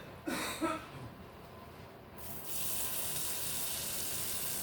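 A short, faint knock leads into a steady bright hiss of melted shortening sizzling in a skillet, continuing evenly to the end.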